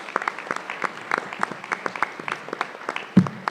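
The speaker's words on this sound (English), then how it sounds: "please rise so that we can give you an applause here." Scattered audience applause at a student success summit for task force members, sparse individual claps close by, ending with a thump.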